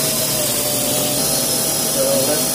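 A drone fitted with a 3D magnetic sensor hovers close by just after takeoff, its rotors producing a loud, steady high-pitched buzz with a constant whine throughout.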